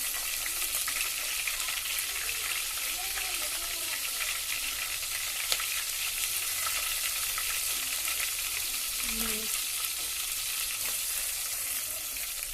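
Cumin, green chilli and curry leaves sizzle in a mix of oil and ghee, a continuous fairly soft frying hiss with light crackling and a brief stirring thump near the end.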